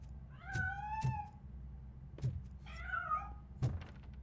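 A cat in RoboCop: Rogue City meows several times, drawn-out tonal cries over a low hum, interleaved with four dull thumping knocks, each meow clear and fairly close.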